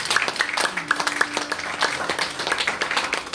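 A church congregation claps and applauds during a worship service in Paris, a steady mid-level patter of many hands lasting a few seconds with some voices mixed in.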